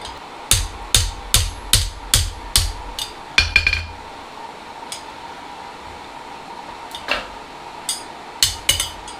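A hand hammer strikes hot steel on an anvil while a V swage anvil hardy is being forged: about seven sharp, ringing blows in an even rhythm, then a pause and a few scattered strikes later.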